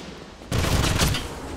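Sudden burst of rapid gunfire from the Wolfenstein video game on PS3, starting abruptly after a quiet moment and staying loud and dense for about a second before easing off slightly.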